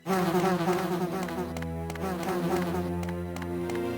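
A steady, loud insect-like buzzing drones on without a break, several overlapping tones wavering slightly in pitch, like a swarm of wasps close by, in the video game Resident Evil: Deadly Silence.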